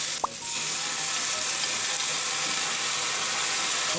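Kimchi fried rice with doenjang, chili flakes, ham and butter sizzles and crackles steadily in a hot pan, a constant frying hiss with a brief utensil clink near the start.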